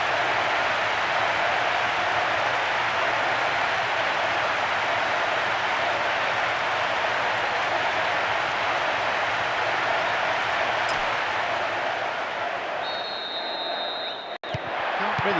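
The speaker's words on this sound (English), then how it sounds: "The capacity crowd getting behind their team." A packed stadium crowd in the PES 2010 football game roars continuously, a dense, loud wash of cheering with a commentator's voice over it.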